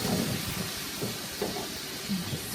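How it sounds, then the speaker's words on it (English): Beef sizzles with onion in a little olive oil in a pan, a steady frying hiss with faint crackles and soft clinks, close and moderate, no talk. "Just frying in that little bit of olive oil."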